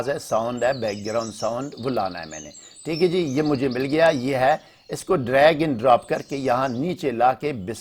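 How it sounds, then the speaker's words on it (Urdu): Bright chirping birdsong from a Camtasia sound-effect library plays as a background track beneath someone speaking Urdu, with short high tweets scattered among and between his words. "جو پرندوں کی آواز ہے وہ میں لا رہا ہوں"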